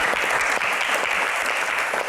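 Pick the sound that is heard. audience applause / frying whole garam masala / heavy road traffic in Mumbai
audience applause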